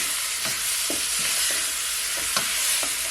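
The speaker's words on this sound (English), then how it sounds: "Gonna allow it to sear for at least 3 to 4 minutes." Pieces of pork searing in a pot for Jamaican curry stew, a loud steady sizzle with a regular series of scraping stirs as the meat is mixed.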